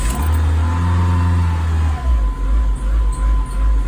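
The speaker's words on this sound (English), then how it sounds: "I'm gonna start the car." A Dodge Neon engine turns over and catches, with a low strained cranking drone for about two seconds, then settling into a rough, pulsing idle close by.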